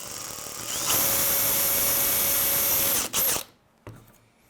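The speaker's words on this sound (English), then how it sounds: "And we'll go ahead and drill." A power drill bores a hole through a frame part during top frame assembly, one sustained high whine for about two seconds that stops abruptly, followed by a short burst of handling noise.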